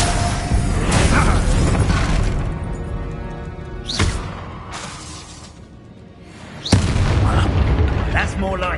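An Expulso spell explosion in the Hogwarts Legacy video game, with a heavy booming blast that decays into rumble, followed by further loud bursts around it, mixed with game effects.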